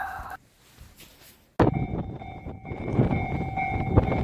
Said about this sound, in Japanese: 列車が来ましたのでこの列車で釧路に行きたいと思います。